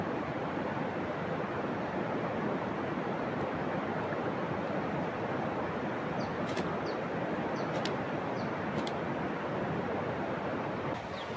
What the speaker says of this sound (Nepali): सब फोहोर बगाइरहेछ, खोला बढेको रहेछ।